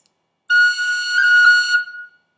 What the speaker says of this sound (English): Here's a high F roll.